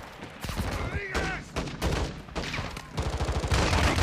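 Gunfire in the Call of Duty: Modern Warfare II campaign during a firefight in hills, with bursts of rapid shots and heavier fire building toward the end, mixed with shouted voices.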